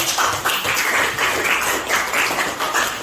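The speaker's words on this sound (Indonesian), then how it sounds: "Oke, tepuk tangan." Students in a classroom clap for a classmate, a loud, close patter that swells in regular pulses, like rhythmic group clapping, with no talk over it.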